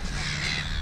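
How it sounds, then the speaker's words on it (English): Gulls calling near a jetty on a seaside foreshore, harsh cawing cries that carry on without a break over steady wind and background noise. "So many seagulls."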